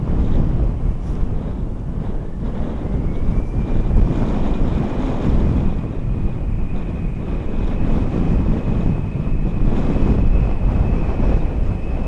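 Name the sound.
wind blowing at an airport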